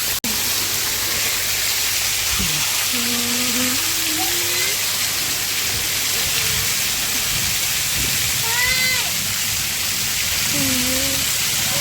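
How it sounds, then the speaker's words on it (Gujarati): Heavy rain pours down steadily in a dense, unbroken hiss, with a few faint tonal calls rising briefly above the downpour. "ફૂલ વરસાદ આવી ગયો."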